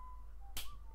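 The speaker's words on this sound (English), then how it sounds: "Who the fuck is whistling?" In the Baldi's Basics in Education and Learning game, a faint thin whistled tone runs through the second, broken by a sharp snap-like click midway, with no talk.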